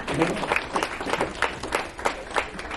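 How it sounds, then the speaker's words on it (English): A room full of people applauds a team at an evening event, the clapping steady and dense for a few seconds with a faint voice underneath. "round of applause for Justin"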